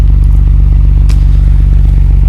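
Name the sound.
aftermarket exhaust of 1989 Nissan Skyline R32 GT-R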